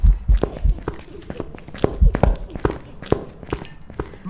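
Ghost footsteps in Phasmophobia, heard from a distance: an irregular run of low, thudding steps, fairly loud and continuous, with faint game ambience behind them.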